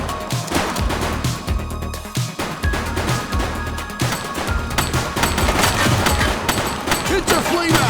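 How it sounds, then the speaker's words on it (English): Sustained gunfire fills a firefight in the police video game The Precinct, with rapid overlapping shots and crashes forming a dense, loud barrage; voices can be heard faintly beneath the shooting. "He's shooting!"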